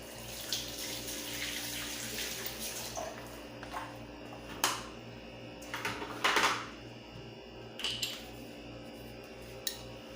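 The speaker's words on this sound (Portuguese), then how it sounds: "Vou lavar aqui as mãos." Tap water runs continuously into a kitchen sink while hands are washed during meal preparation, with soft splashing and a few clinks of dishes or cutlery close by.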